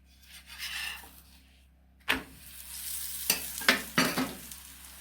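Roti fries in coconut oil in a pan, a soft sizzle broken by several sharp scraping and turning bursts from a utensil near the start and end, close and moderately loud, without talk.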